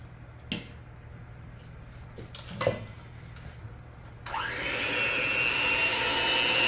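An electric hand mixer beats an egg into chocolate chip cookie dough, starting abruptly partway through with a steady whirring drone that grows louder. Before that come a few scattered clicks and knocks, with no talking.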